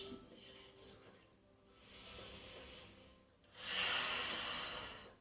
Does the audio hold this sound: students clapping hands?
no